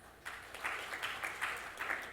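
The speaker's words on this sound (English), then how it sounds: "Rakesh Kumar a round of applause." Scattered clapping from a conference audience at Explosafe 2016 builds quickly after a brief pause into moderate, uneven applause for a speaker being introduced.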